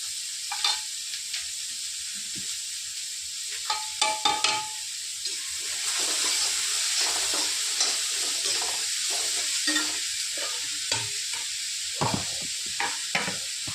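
Onions sizzling and frying in a pan for mutton gravy with green chilli kharda, stirred with repeated scraping clicks over a steady hiss, close and fairly loud with no talking.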